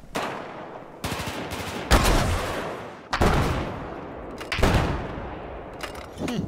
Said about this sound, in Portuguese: Tá atirando em quem, minha filha?